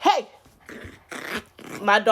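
An energetic puppy growls and whimpers in short, close bursts between pauses, with breathy yips and whines, and a person speaks alongside it.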